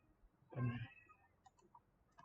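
A house cat gives a single short meow indoors, close and clear against a faint, quiet room background.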